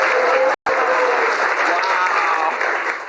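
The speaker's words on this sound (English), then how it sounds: "you can clap." Studio audience applauding and cheering at a late-night political comedy talk show, loud, dense and continuous for about three seconds apart from one brief cut, with no voices rising above the clapping.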